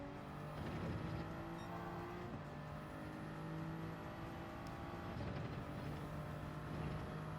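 A simulated race car engine in Gran Turismo 7 revs and climbs through gears during a time-trial lap, with rising pitch sweeps, short shifts and brief lifts, steady and alone.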